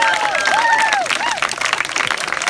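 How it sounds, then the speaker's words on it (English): A roomful of people applauds warmly while a few voices rise over the clapping, with whoops and chatter mixed in. "Just a round of applause to the catering staff."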